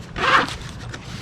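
A single quick zipper pull on a motorcycle saddle bag, close and brief, with a short rasping sweep that fades into quiet handling noise.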